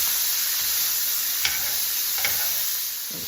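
Two kinds of garden peppers sizzle steadily in a pan for a sausage, pepper and onion pizza, with a couple of soft utensil clicks as they are stirred, close and without talk.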